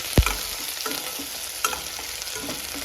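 Onions fry in a thick, heavy pot while a spoon stirs them: a sharp scrape at the start, then a soft, continuous sizzle broken by a few light scrapes.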